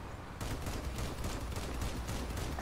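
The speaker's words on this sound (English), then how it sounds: "That's a cannon shot coming past us now." A Crossout cannon shot rushes past as a dense, loud roar that starts abruptly and runs on as a sustained blast of heavy gunfire.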